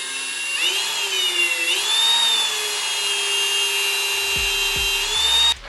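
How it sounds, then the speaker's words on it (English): A power drill whines steadily at high pitch, its tone dipping briefly as it bites into a metal oil pan, then runs on before stopping with a clunk. "Go ahead and hit it with a drill bit."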